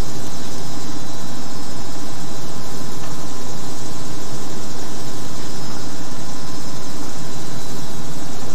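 An airliner taking off in the Prepar3D 4.5 flight simulator at Gimpo International Airport, Seoul, gives a dense, unbroken, very loud engine roar that stays level throughout.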